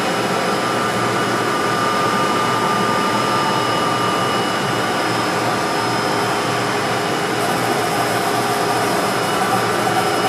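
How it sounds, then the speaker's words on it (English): Spindle of a HAAS VF-2 vertical machining center running at 2000 RPM, a steady loud whir with a constant tonal whine holding unchanged from start to finish. "let this run for a second. Right now the spindle speed is set at 2000 RPM."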